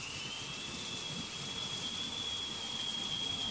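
Steady rain falls outside on a cold day, a continuous soft hiss with no break, joined by a thin, constant high whine in the background.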